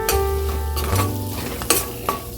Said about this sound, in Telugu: కాస్త పసుపు వేసాక ఇప్పుడు దీన్ని వేయించుదాం